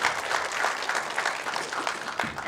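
An audience at a film song audio launch event clapping together, a dense, steady burst of crowd applause throughout.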